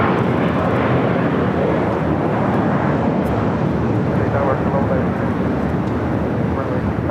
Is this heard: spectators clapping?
no